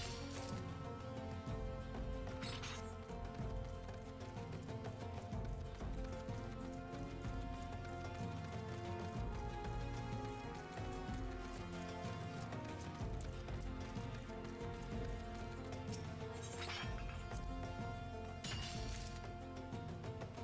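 Steady heavy rain in the Final Fantasy XIV desert, a continuous dense hiss of drops on surfaces with a few sharper cracks, mixed under a constant layer of game music and ambience with no talking.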